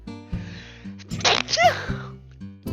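A single loud, close sneeze with a sharp burst and trailing exhale, set against a soft, rhythmic background tune from the game Bug Fables.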